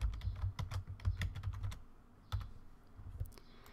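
Password being typed on a computer keyboard, a quick run of close, crisp key clicks that stops for a moment, then a few more scattered presses and a final tap.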